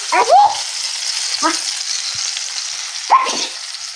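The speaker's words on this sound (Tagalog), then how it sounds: "Magluto tayo ng langgunisa." Longganisa sausage sizzles in a pan with a steady, close hiss, broken by a few louder spatters and the scrape of stirring, and a voice speaks briefly near the start.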